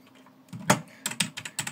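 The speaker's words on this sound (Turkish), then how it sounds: "Dediğim gibi red switch'li bir klavye." Keys on a red-switch mechanical gaming keyboard clack in a quick uneven burst, one louder strike followed by several lighter taps, close and clear with no talking.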